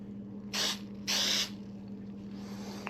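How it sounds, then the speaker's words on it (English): Two sharp hissing bursts of fabric glue sprayed from an aerosol can onto padding for trailer wing racks, heard close over a steady low mechanical hum, with a softer trailing spray afterward. "we'll just take a little bit of fabric glue, and we're going to spray it"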